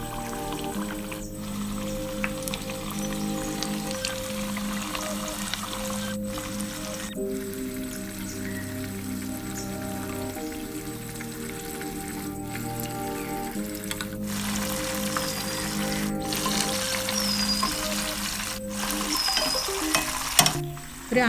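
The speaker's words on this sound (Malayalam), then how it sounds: "ഓയിൽ ചൂടാകുമ്പോൾ മീൻ പതുക്കെ വെച്ച് കൊടുക്കാം. മീഡിയം ഫ്ലെയിമിലിട്ട് പൊരിച്ചെടുത്താൽ മതി." Fish fries in hot sunflower oil over medium flame, a close, steady crackling sizzle that runs throughout with occasional brief pauses and a few soft stirring sounds, without talk.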